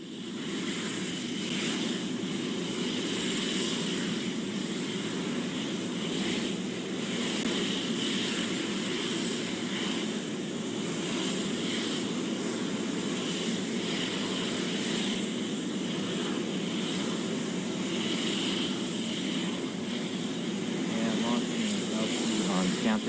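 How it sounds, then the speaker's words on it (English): A Lockheed L-1011 carrier jet takes off from Cape Canaveral bearing a Pegasus rocket, a steady broadband jet roar with wind-like rushing that holds loud and constant throughout, with no clear talk over it. "we'll have live video from the chase plane of the L-1011 departing from Canaveral"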